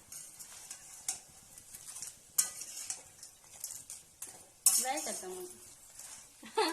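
A spoon scrapes and clatters through crab sukka in a pan, with soft sizzling under irregular stirring strokes and a few sharper metallic knocks.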